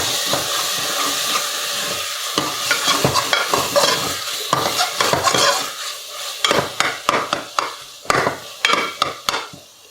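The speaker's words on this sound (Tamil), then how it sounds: "இப்போ இது ஒரு 5 மினிட்ஸ் மீடியம் ஹீட்டில் நல்லா வதங்கணும்." Masala sizzles and sautés in a pan over medium heat for prawn biryani, the steady frying hiss broken by repeated scraping strokes of a spoon that grow into a quicker rhythm toward the end.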